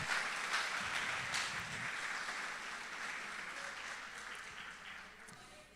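A congregation applauds during a church sermon, a steady, moderately loud wash of many hands clapping that holds for several seconds and then gradually tapers off.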